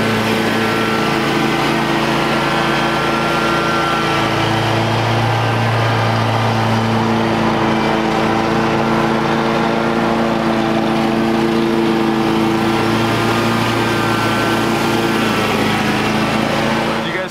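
A Gravely Compact Pro-34 zero-turn mower with a 34-inch deck runs steadily at close range while mowing a lawn, its engine drone continuous and loud with slight load changes throughout.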